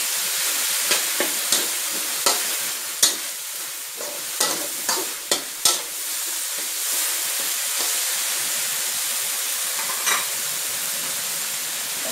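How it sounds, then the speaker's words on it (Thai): Fermented soybean paste being stir-fried in a pan for a Chinese kale and minced pork dish, a steady loud sizzle with a series of sharp spatula scrapes and taps spread across it. "เต้าเจี้ยวมาผัดให้หอมเลยค่ะ"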